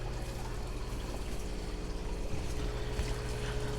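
Water is poured steadily into an aquaponics system as iron is added, a continuous close trickling and splashing that runs unbroken throughout without speech.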